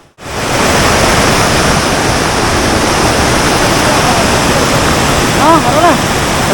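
Loud, constant roar of fast-rushing water pouring over a check dam close by, with a brief voice barely audible over it near the end.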